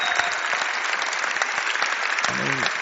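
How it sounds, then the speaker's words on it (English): Crowd applauding at the 2007 Canary Wharf squash final, dense loud clapping that fills the hall throughout, with a commentator's voice briefly heard over it. "Just listen to that crowd."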